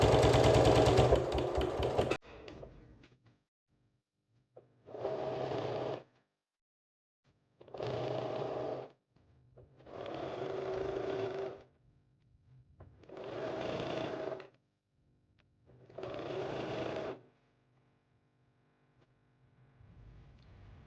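A domestic sewing machine stitching quilt binding in five separate runs of steady whirring, each a couple of seconds long with short pauses between, close and alone after a brief loud burst at the start.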